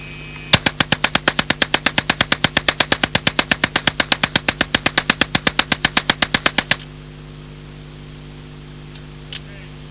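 An Alan Halla 1977 experimental prototype low-recoil submachine gun fires one long fully automatic burst from a 50-round magazine, a rapid, even string of loud, sharp reports lasting about six seconds before falling to quiet.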